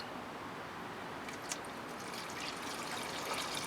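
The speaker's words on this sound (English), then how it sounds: "So I'm just going to use these little paint strainers to filter out any crud that's in my coolant that I took out earlier" Used coolant drained from a 1977 Chevy C10 cooling system pours through small paint strainers, a soft steady trickle and splash running throughout, close and fairly quiet.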